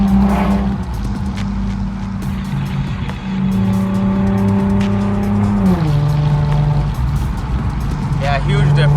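An Infiniti G37x fitted with a Soho Motorsports 3-inch single exit exhaust drones steadily at idle and light revs, its tone dropping briefly near the end, loud and close throughout.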